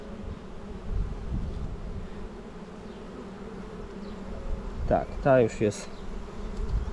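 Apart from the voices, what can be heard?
honeybees buzzing at open hive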